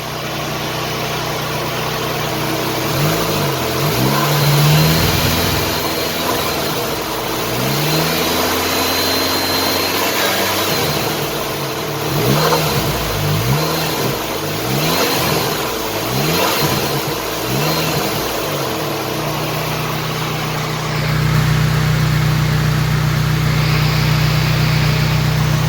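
The engine of a Dodge Neon SRT-4, fitted with an aftermarket fuel rail, idles steadily and is blipped through a series of quick, loud revs that rise and fall before settling back to a steady idle.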